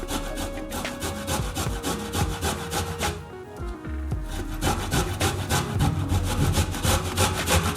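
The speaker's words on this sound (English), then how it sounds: "now that we have the ginger all peeled, let's grate it." Fresh peeled ginger rubbed quickly over a grater for an Indian paneer butter masala, giving rapid rhythmic rasping strokes up close with a short pause midway. No voices are heard.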